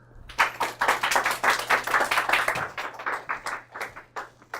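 A live audience breaks into sustained applause welcoming a speaker at a coffee-themed lecture event, many hands clapping densely and steadily for several seconds before easing off slightly.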